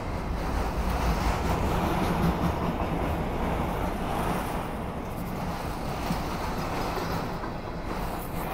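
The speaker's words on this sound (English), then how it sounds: "Well, I bless that train" A CSX freight train passes close by on the east side of Owensboro with a loud, continuous rumble and rolling wheel noise that stays steady throughout, easing off only slightly toward the end.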